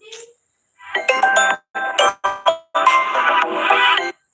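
A phone rings with a bright electronic ringtone in several bursts of harmonic tones separated by short gaps, loud and close, with no one talking over it.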